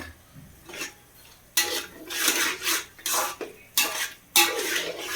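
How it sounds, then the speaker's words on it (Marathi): A spoon stirs chili powder into a vegetable Manchurian mixture of cabbage, a run of close, rhythmic scraping and clinking strokes against the pan. "त्यानंतर ते टाकलं चांगलं मिक्स करून घ्या"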